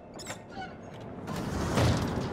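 An old door in Until Dawn creaks as it swings open, a short drawn-out wooden groan that builds to a louder creak near the end, close and fairly quiet with no talking.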